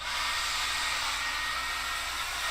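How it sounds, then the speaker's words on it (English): A hairdryer runs in a home, giving a steady, loud airy whoosh with a constant motor hum. It is close and continuous for the whole stretch with no talk over it. "Gemma, do you want to get the hairdryer?"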